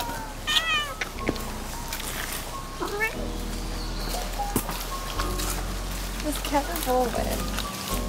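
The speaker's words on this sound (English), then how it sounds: "Oh, there's more cats." Several wet stray cats meow repeatedly outdoors in the rain in Japan, their cries rising over a steady rainy background while people talk nearby.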